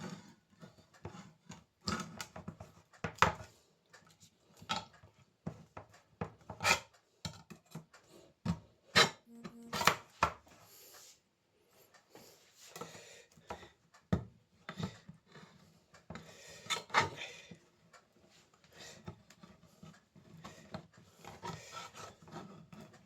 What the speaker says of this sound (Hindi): अब हमको ये देसी तरीका करना पड़ रहा है टिन को खोलने के लिए